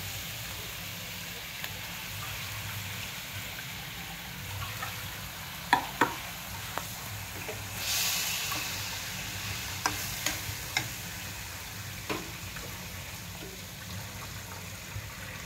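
Rice sautéing in a pan gives a quiet, steady sizzle with scattered clicks and scrapes of a spoon stirring, a brief louder hiss partway through, heard close and without talk.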